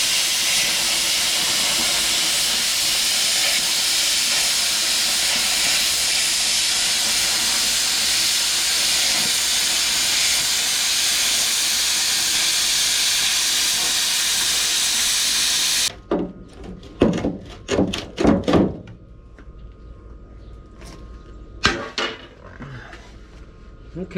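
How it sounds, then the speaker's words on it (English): Metal bottom being cut out before welding, a loud continuous hissing roar of a cutting torch for about sixteen seconds, then it stops abruptly and a few sharp metallic clanks follow in the quiet. "Gotta cut this bottom out because I don't want that lip."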